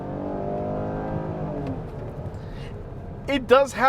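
A 2020 Chrysler Pacifica minivan engine growls as it accelerates, a rising harmonic drone that fades, with someone talking over the end.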